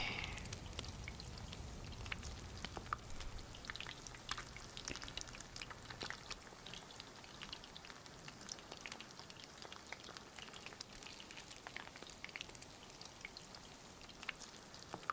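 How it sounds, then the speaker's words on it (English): Food roasts over an open flame in DayZ, giving a faint, steady crackle with scattered sharp pops and ticks throughout, with no talk. "That's the sound of food being slowly roasted over an open flame."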